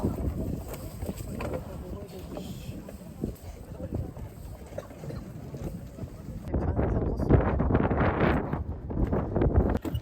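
Strong wind gusts at the Baengnokdam summit crater on Jeju's Hallasan, a steady broadband rush that swells louder in the second half, buffeting the microphone, with some talk in the background.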